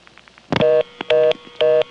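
Three loud, steady telephone exchange dialing tones of equal length, each following a short burst, ring out alone in a 1976 senderized step-by-step office in Manassas, Virginia, as an 11 is dialed.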